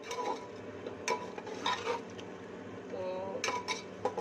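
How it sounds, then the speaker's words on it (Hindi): A spoon stirs boiled chickpeas being roasted in a pot for degi-style chana pulao. It gives a few clinks and scrapes against the metal over a low, faint sizzle. "इस 2 से 3 मिनट हम चनों की भी भुनाई करेंगे।"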